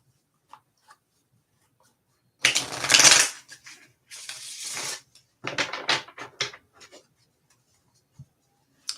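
Close, crisp riffle shuffling of a new tarot card deck in several bursts separated by pauses, with light taps before and after.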